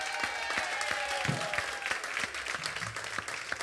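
Audience applause for the band at a live performance, a dense steady wash of clapping with a few sharper claps standing out, filling the whole moment at moderate level without talk.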